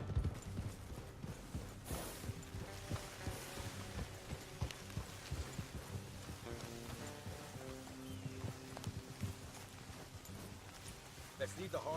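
Horses' hooves clop in a steady trotting rhythm throughout in Red Dead Redemption 2, joined by low music and background tones.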